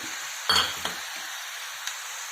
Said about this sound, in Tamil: மட்டனும் போட்டு நல்லா வதக்கிடலாம் ஃப்ரெண்ட்ஸ்